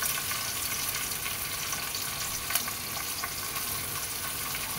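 Prawns frying with two bay leaves in a pan: a steady, moderately quiet hiss and crackle of hot oil running the whole time, with one brief sharper pop near the middle.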